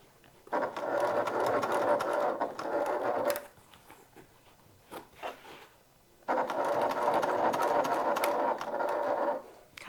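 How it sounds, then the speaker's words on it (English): A sewing machine stitches a top handle bag in two steady bursts of rapid mechanical whirring, separated by a quiet pause with a few small clicks. "I'm just taking a few stitches at a time"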